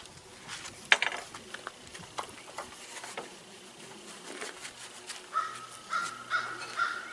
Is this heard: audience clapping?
no